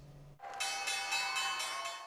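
The stock exchange closing bell rings in a loud, sustained electric peal with a steady pulsing rhythm, following a brief low hum.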